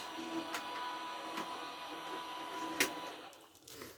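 A steady mechanical hum and whir of a machine running, broken by a few sharp clicks and knocks, with the noise fading near the end.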